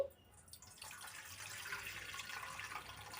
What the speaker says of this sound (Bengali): আমি গামলায় জল নিয়ে নিচ্ছি